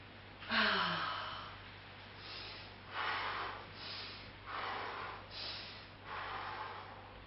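Slow breathing during a health-stick exercise, heard as a sharp nasal intake followed by several long, soft, close breaths with even pauses, with no talk.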